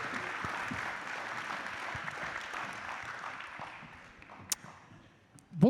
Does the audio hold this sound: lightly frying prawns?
no